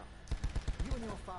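Rapid gunfire in a video game, about six evenly spaced sharp shots followed by a rising electronic whine, heard alone.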